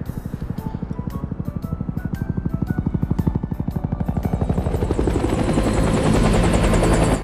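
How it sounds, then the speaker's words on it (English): A helicopter's rotor thumps in a rapid steady rhythm, growing louder and fuller as it draws close, ending in a dense roar overhead. "they hear the chopper blades, and then the helicopter comes up"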